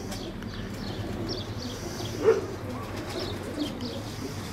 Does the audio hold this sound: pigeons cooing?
yes